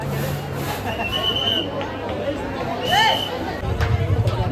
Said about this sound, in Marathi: खूप गर्दी आहे, समोर बघा।